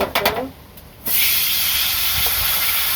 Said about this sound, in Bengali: গরম হলে পরে পটল ভাজিটা দিয়ে দিব